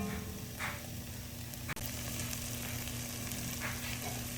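Onions sautéing in a pot for cauliflower soup, a steady close sizzle with a few soft scrapes of a spoon stirring and one sharp knock partway through, no voices.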